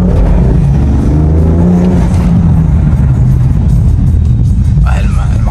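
A tuned BMW M3 F80 at Stage 3 with over 700 hp accelerates hard, its engine a loud, steady droning roar heard from inside the car, with voices speaking over it.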